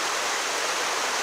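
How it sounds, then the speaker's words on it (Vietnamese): A mountain stream and waterfall at Đát stream in Long Tiến, Tuyên Quang, give a steady, dense rushing roar, close and continuous, with no voices. "có suối chảy, thác chảy"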